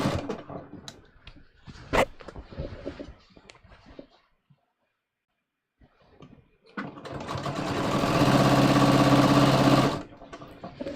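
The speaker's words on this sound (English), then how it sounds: "I'm gonna sew across my center back seam" A sewing machine stitching across the center back seam of jeans, one sustained whirring run of about three seconds that builds up then stops, preceded by quieter handling clicks and a pause.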